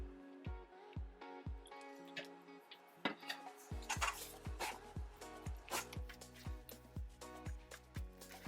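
Rock bun batter stirred in a mixing bowl, a steady run of soft knocks and scrapes repeating roughly every half second, close and fairly quiet, with a low sustained hum underneath.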